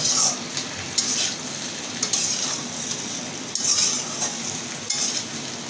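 Pointed gourd (potol) frying and being stirred in a pan for a koi fish and potol do-peyaji, a steady close sizzle with irregular scraping clinks of a spatula throughout.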